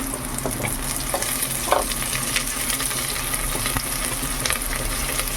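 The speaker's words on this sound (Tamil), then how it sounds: "இப்போ வெங்காயம் ஓரளவுக்கு நல்லா வதங்கிடுச்சு. இந்த கொத்தமல்லி நறுக்கி வச்சுருக்கோம்ல, அதை போட்டுக்குவோம்" Onions and chopped coriander sautéing in a pan for tomato rice, a steady close sizzle with occasional stirring scrapes and clinks, no voices.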